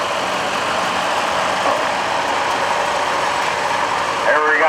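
A steady, loud engine drone from a 1941 Model B or a Cub Cadet International tractor rolls along in a daily parade at a construction expo, filling the whole stretch with a constant broadband rumble.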